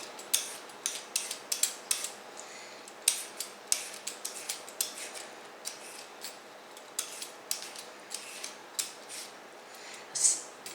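Repeated short scraping strokes, close and fairly crisp, in an uneven rhythm with brief pauses, as a peeler is drawn along a cucumber.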